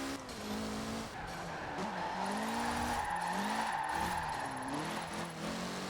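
A Mitsubishi car in Forza Horizon 4 spins its wheels through a corner. The tires squeal steadily under a wavering engine note for several seconds.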